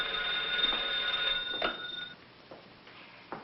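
An old telephone rings with a bright metallic bell tone, one sustained ring that fades into a few faint knocks and handling sounds, no talk.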